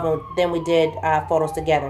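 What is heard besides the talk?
emergency vehicle sirens near a hospital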